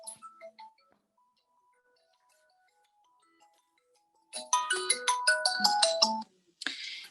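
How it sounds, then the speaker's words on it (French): A mobile phone rings in an office with a loud, bright burst of melodic ringtone notes that stops and then restarts briefly, after faint scattered tones and near silence. "Il y a un téléphone qui sonne."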